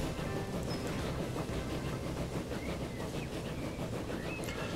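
A train runs in the Transport Fever game, heard from onboard as a continuous loud rumble with faint rail clatter and a windy roar, steady throughout.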